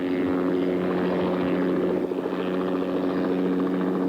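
A helicopter flies close by with a loud, steady rotor drone that fills the whole stretch without a break.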